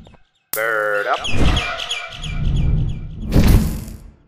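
Inside the Garten of Banban 6 video game, a bird lets out a loud, close burst of rapid chirps and tweets that trails into a fluttering rustle and ends on a heavy thump.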